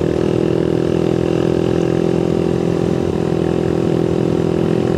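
Motorcycle engine braking downhill, a loud, close, steady droning engine note with constant rumble and no pauses.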